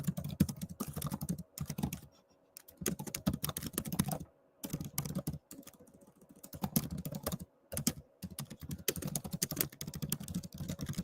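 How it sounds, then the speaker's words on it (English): Rapid keystrokes clatter on a computer keyboard as notes are typed, in bursts separated by brief pauses, close and steady with no voices. "I'm taking notes in the description if you ever want to look at what I'm typing"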